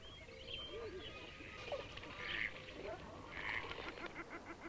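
A courting duck calls during its head-tipping display, giving a few honking, quacking notes amid other waterfowl and steady background noise.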